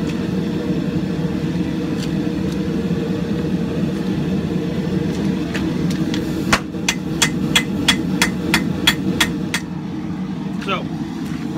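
A ball peen hammer being forged into a large tomahawk on an anvil, with sparse strikes at first and then a rapid run of sharp, ringing metallic blows over a low background rumble.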